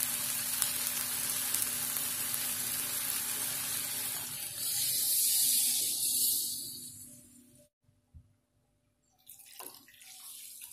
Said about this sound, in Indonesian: Kemudian kita masukkan santannya.